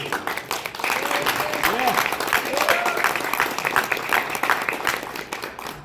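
A crowd at a Korean-American chamber of commerce general meeting in Atlanta applauds in a sustained, moderately loud patter of many hands, with a voice speaking over the clapping early on.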